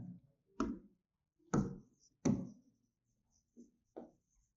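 Writing on a board during a class 7 maths lesson, five separate sharp taps and strokes spaced unevenly over a few seconds, close and distinct, with silence between them.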